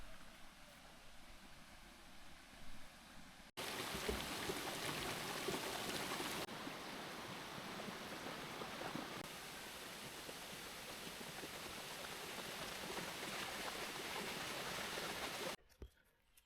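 A waterfall and stream flowing in Waterfall near Durban, a broad, steady rushing roar that swells suddenly and holds loud for most of the stretch before cutting away.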